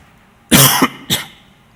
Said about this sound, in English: I'm sorry, I have a cough